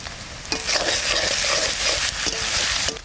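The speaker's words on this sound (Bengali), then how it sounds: "বাটা মশলাটা দিয়ে দেবো।" Ground spice paste fries with onions and coriander seeds in hot oil, a steady close sizzle with scraping stirs of a spoon across the pan.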